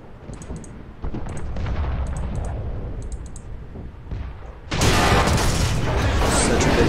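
A tank shell strikes the player's tank in War Thunder: a loud, sudden impact boom erupts late, following quieter mechanical rumble and faint clicks, then the noisy aftermath continues.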